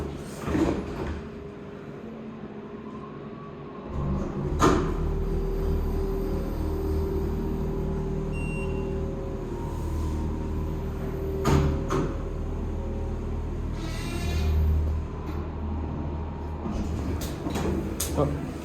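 A Mitsubishi hydraulic all-glass elevator in an Apple Store runs with a steady low motor hum, marked by several sharp door clunks and sliding-door sounds. People talk at times over it.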